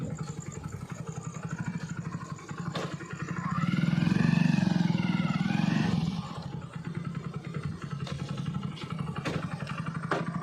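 A motorcycle being parked, its engine idling close by with a steady pulsing throb that swells into a brief rev in the middle before settling back to idle, with some clatter and no voices.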